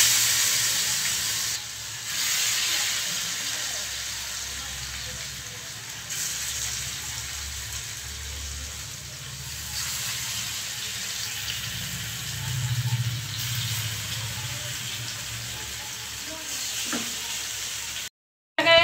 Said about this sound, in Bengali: এখন ওইদিকে ফ্রাই প্যানে আমি তেল গরম করেছি।